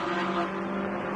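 A four-cylinder race car engine on a historic circuit at Montjuïc drones steadily at moderate distance, a sustained buzzing note with faint tyre noise and no talk.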